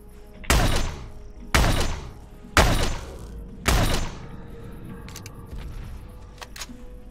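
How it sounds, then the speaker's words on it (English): Explosions in the space survival game Empyrion, four heavy booming blasts spaced about a second apart, each with a long rumbling decay over a steady background hum. "Thought I heard an explosion"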